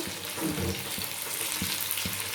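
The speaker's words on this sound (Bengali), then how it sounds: "এগুলো আমি শ্যালো ফ্রাই করে নিচ্ছি" Pieces of pea lentil dhoka shallow-fry in oil, a steady bubbling sizzle with a few soft knocks of stirring, close and moderately loud with no speech.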